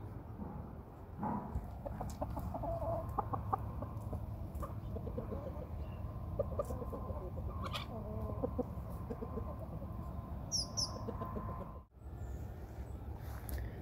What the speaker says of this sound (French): 11 poules, plus le coq Chéri, ce coq-là, et 5 poules là-bas.